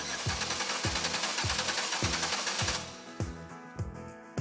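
A car engine with a misfire is cranked over by the starter. It gives a steady, rhythmic chugging of evenly spaced pulses about twice a second, growing quieter toward the end.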